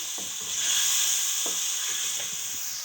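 Half a kilo of meat frying in a cooking pot gives a steady, close sizzling hiss, with light clinks of stirring over it and no voices.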